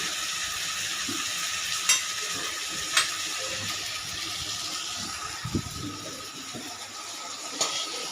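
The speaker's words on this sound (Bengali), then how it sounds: "এবার ডালটা ফোড়ন দিয়ে দেবো।" Tempering spices sizzle in oil for mung dal with prawns. A moderate, steady frying hiss is broken by a few sharp clinks and light stirring scrapes, and no one speaks.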